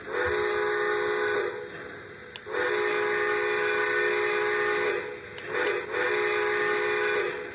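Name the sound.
whistle of a Lionel Polar Express toy train set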